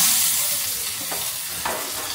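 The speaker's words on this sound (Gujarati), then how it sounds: "હવે દાળનો વઘાર." Hot oil tempering for dal sizzles with asafoetida, mustard seeds and curry leaves, a steady close crackle with a couple of brighter bursts as ingredients hit the pan, no talking.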